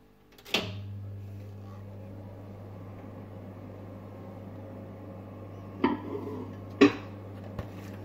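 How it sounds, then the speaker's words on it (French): A pizza is set into a microwave and a splatter lid goes over it. A sharp clunk opens the clip, then a steady low microwave hum runs underneath, with a few clattering knocks and taps of the lid and dish near the end. "Je la pose au micro-ondes, j'en mets un petit couvercle qui empêche que ça éclabousse partout"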